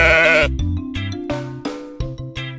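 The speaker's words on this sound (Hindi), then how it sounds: "भेड़।" A sheep bleats repeatedly at close range, opening with one long wavering cry and followed by several shorter bleats, with nothing else heard.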